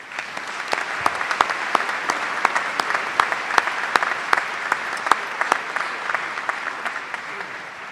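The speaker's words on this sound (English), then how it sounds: "let's give our master students a round of applause" A large graduation-ceremony audience applauds master's degree candidates at a university commencement, sustained crowd clapping with a few sharper individual claps standing out, filling a big hall for several seconds.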